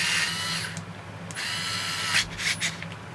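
A DeWalt 4V cordless screwdriver with FLEXDRIVE control runs with a steady high motor whine, broken by short pauses and bursts of speed, close and fairly loud with no talking.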